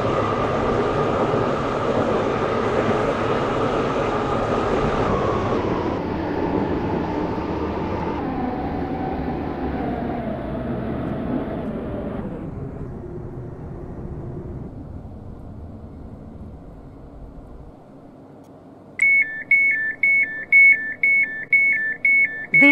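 A Class 720 electric train in the Stepford County Railway game pulls into Whitefield station, a steady loud rolling hum that slowly winds down and fades as it stops, followed by a repeated electronic beeping of the doors.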